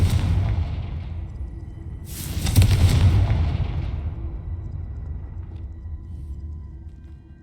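Confringo fire spell explosion in Hogwarts Legacy, a deep booming blast that swells then rumbles away over a low background hum.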